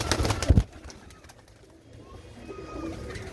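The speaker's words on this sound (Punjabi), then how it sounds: "ਇਹ ਦੇਖੋ ਹਾਂ ਲਾਲ ਚੀਨੇ ਵਾਲੇ ਤਗੜੇ ਤਗੜੇ ਨਸਲਾਂ ਦੇ ਕਬੂਤਰ ਨੇ" Strong, red-chested breed pigeons coo close by, with a louder burst at first and then softer, lower cooing.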